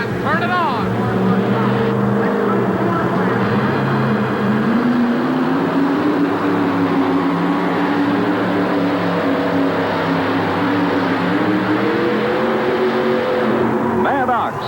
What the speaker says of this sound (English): This is the 1987 Ford. And here again, he's got about 650 cubic inches of Ford horsepower.